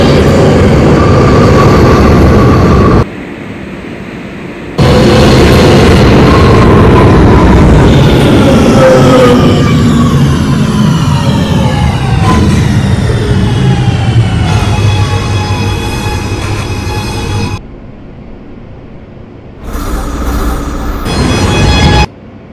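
A New York City subway R211T C local train in the OpenBVE simulator game rumbles loudly along the tracks, with rising and falling motor whine and brief quieter gaps between stretches of heavy noise.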